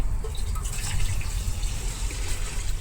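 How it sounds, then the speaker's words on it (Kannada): Steady, full-bodied rush of water pouring continuously into a cooking pot to prepare rice outdoors, close up, with no voices over it. "ನೀರು ಹಾಕ್ತಾ ಇದ್ದೀನಿ."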